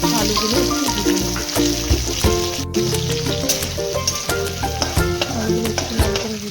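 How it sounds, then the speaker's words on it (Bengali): Cut potatoes fry in hot oil with a loud, steady sizzle, broken by scraping stirring strokes and clinks of a utensil against the pan, close and continuous. "এবার আমি কেটে রাখা আলুগুলো একটু ভেজে নেব।"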